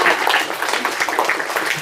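Children at a Sunday school clap together in a dense, steady patter of many hands that carries on without a break for about two seconds.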